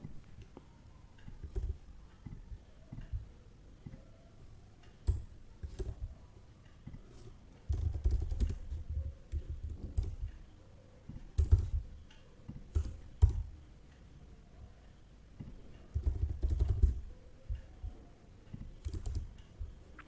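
Computer keyboard typing while writing code, steady close clicking keystrokes in irregular bursts with occasional heavier thumps, fairly quiet throughout.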